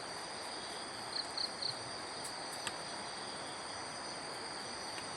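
A nighttime chorus of frogs carries from a weedy house courtyard, a constant high-pitched drone with a short run of pulsing calls just after the first second. The sound is unbroken and there is no talk.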